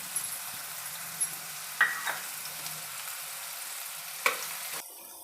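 Chopped onion and curry leaves fry in oil in a pan, giving a soft, steady sizzle with a few brief stirring clicks; quiet and close, with no voices.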